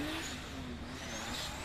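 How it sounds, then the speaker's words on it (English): At a British Drift Championships round in Teesside, a drift car warms up its tyres with a loud, sustained engine roar and tyre noise, steady and fairly close throughout. "This is Josh Moore just warming his tyres up."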